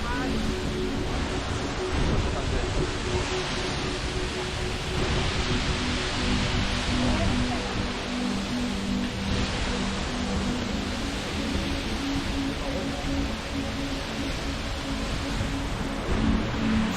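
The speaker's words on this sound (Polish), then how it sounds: "Woda spada tu z wysokiego na 60 metrów klifu, będącego kiedyś fragmentem linii brzegowej." Seljalandsfoss waterfall in Iceland drops from a 60 m cliff, heard as an unbroken hissing roar that holds steady for the whole stretch, with a faint low hum underneath.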